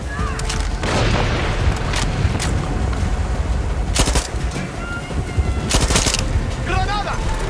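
Heavy gunfire in the Far Cry 6 video game, with repeated bursts of automatic fire and booming shots rattling throughout a chaotic firefight, some close and loud, along with shouted voices.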